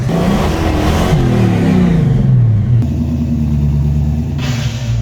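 Engine of a highly modified Chevelle driven inside a garage, a loud, close V8-type rumble that revs up and falls back in rolling waves before settling into a steady low idle.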